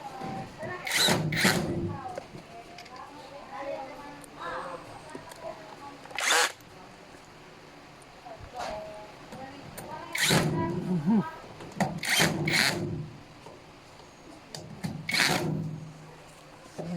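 Power drill driving screws while assembling a gray three-drawer metal mobile pedestal: several short, separate whirring bursts spaced across the stretch, with faint rattling and handling noise between them.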